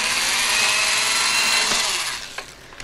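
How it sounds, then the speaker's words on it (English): A power drill whirs steadily at high speed, boring a small starter hole into wood for a couple of seconds before winding down with a few brief clicks. "I'm going to use my drill to drill a small starter hole."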